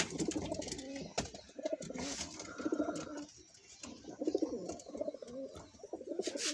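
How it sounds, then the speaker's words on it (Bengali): Pigeons coo steadily in soft, repeated rolling phrases, several birds close by, with a few brief knocks and rustles in between. "সব কবুতরগুলো এই যে এখানে আছে"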